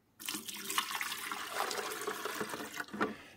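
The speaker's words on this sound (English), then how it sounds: "we're going to take those 2 cups of vinegar and we're going to dump it into our water reservoir." Two cups of pure vinegar poured into the water reservoir of a Keurig K-Classic coffee maker, a steady splashing liquid stream running for about three seconds at close range with no talking.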